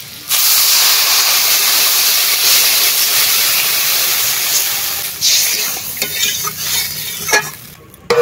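Water poured into hot sautéed taro masala, setting off a loud, steady hiss of sizzling steam that later breaks up into uneven bubbling crackles and a few sharp pops.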